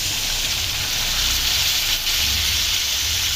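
Spiced masala frying in oil hisses steadily as water is poured in, a dense, even sizzle of steam close by with no talk.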